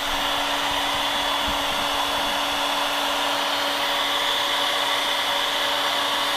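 A heat gun blowing hot air onto the rubber outsole of an Air Jordan 4 Retro White Cement sneaker, a loud, steady whirring hiss with a constant motor hum, close up and uninterrupted.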